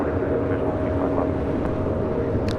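Steady, loud jet engine roar at LAX airport as a Qantas A380 is pushed back, a continuous broad rumble with a faint tonal whine and no talking.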